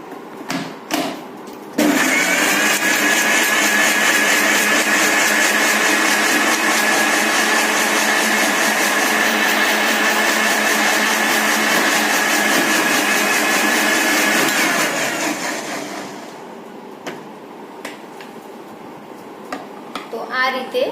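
Electric mixer jar blending lychee pulp with water, a loud continuous motor whir that starts abruptly after a few clicks, runs steadily for about thirteen seconds, then winds down and stops, followed by light handling clicks.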